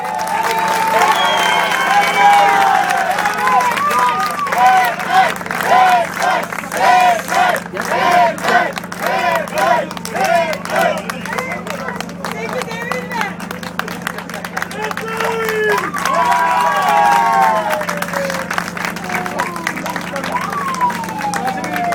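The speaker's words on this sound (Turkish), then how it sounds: "Birinciye bu kadar mı alkış arkadaşlar?" Crowd at a Beyoff off-road event award ceremony clapping and cheering for the first-place winner, a lively mix of applause, shouts and chatter with voices over it throughout and a constant low electrical hum.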